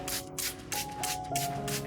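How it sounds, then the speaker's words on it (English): A spray bottle mists water onto orchid leaves in a series of short hissing bursts, about four or five quick sprays close by with brief pauses between them. "First, we're going to mist the plant with water."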